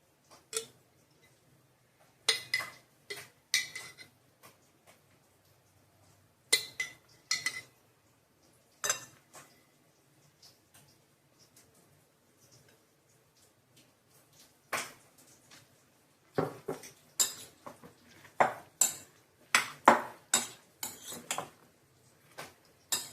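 A spoon clinks and scrapes against a bowl while chillies are stirred into yogurt, coming in irregular bursts of sharp taps separated by quiet gaps, close and fairly soft.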